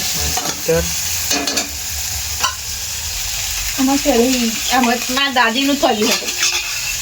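Spices for a village-style dal tempering (vaghar) sizzle in hot oil, a steady crackling hiss with stirring scrapes; a voice is heard over the frying in the latter half.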